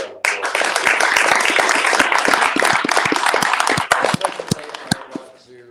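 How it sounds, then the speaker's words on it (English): An audience at a Micro Business Matters Day 2022 gathering breaks into dense, sustained applause for about five seconds, thinning into scattered claps and fading at the end. "So big round of applause."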